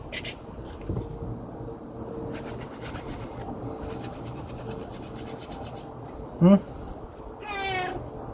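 A cat indoors lets out a short meow midway, close and fairly loud, over faint rustling and scraping noises, with another brief cry near the end.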